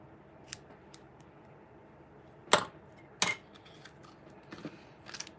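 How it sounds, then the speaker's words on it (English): Scissors snipping through ribbon at a craft table, a few sharp, close metallic cuts spread across the moment, with soft handling noises between them and a quiet background. "And then I'm going to cut this off down here."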